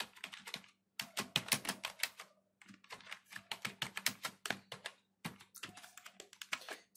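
Code being typed on a computer keyboard in a CSS tutorial, with rapid bursts of crisp, close key clicks broken by brief pauses across several seconds.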